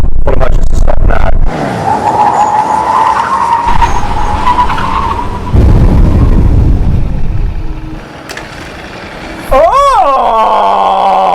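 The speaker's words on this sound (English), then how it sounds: "Full emergency stop now." A car brakes hard in an emergency stop, its tyres skidding and squealing loudly for several seconds before the noise fades. A voice then exclaims over a rising, whining tone.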